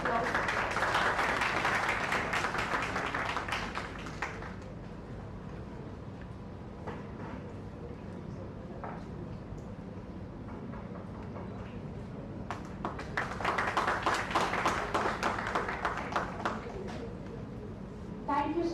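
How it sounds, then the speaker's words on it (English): An audience at a live university event applauds a speaker, with loud clapping at the start, fading into a quieter stretch of scattered claps and murmur, then swelling again into a second burst of applause. "Give a big round of applause."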